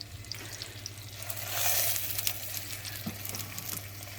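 Ribeye steak fat frying slowly on low heat in a pan, a continuous soft crackling sizzle that swells briefly in the middle, close and fairly quiet over a low steady hum.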